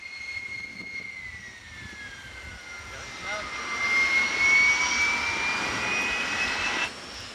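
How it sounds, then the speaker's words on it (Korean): A fighter jet's engine whines on a runway, its high tone slowly sliding and swelling louder before cutting off sharply, with a voice speaking over it. "전투기는 무사히 활주로에 착륙했다"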